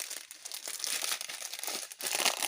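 A packet of diamond painting diamonds crinkles and rustles as it is torn open, a continuous close plastic crackling with small bursts, no voices.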